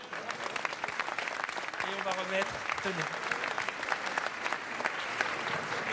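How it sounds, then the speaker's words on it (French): Audience applause at an awards evening for entrepreneur laureates, a dense steady clatter of many hands filling the room while someone speaks over it. "On les applaudit."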